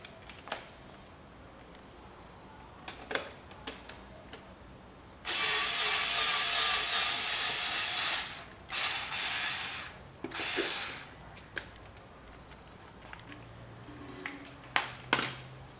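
A power screwdriver removes screws from the air filter of a Yamaha Virago XV250 motorcycle: two short, loud whirring runs after scattered faint clicks and taps, with quiet gaps between.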